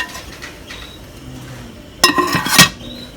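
A metal lid goes onto a cooking pot of steak and ale chowder, giving a sharp clatter and a short ringing clink near the end, close and loud after a quiet stretch.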